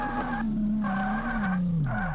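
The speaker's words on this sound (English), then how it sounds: "And we can actually somewhat hold a drift now." Simulated car drifting in the video game DRIFT21 on an open track with 500 horsepower, giving a steady engine drone under long tire squeals that come in repeated bursts, the pitch sliding down near the end.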